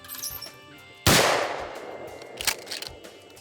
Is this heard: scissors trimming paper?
no